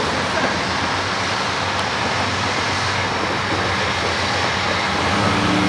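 CSX freight train hauling explosives eastbound with a C40-8 locomotive in the consist, passing close by as a steady, loud broadband rumble of rolling wagons with no gaps.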